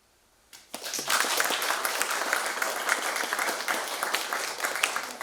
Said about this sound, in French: Sous les applaudissements d'un public enthousiaste.